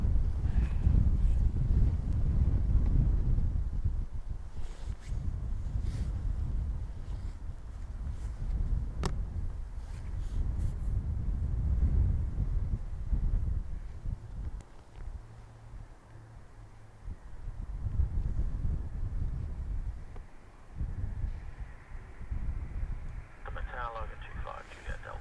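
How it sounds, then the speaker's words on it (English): Wind buffets an outdoor microphone at an airport, a steady low rumble with gusts that swell and fade, while a faint higher hiss rises near the end. "I'm going to put it outside so you can have the wind."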